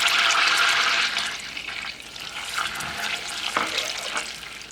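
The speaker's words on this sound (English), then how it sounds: "So you want to stir this frequently while it's cooking, and you want it to cook until it's golden brown." Butter and sweetener cook in a pot over medium-low heat for a keto caramel sauce, giving a steady close sizzle and bubbling hiss that is loudest at first and then settles lower, with faint stirring scrapes.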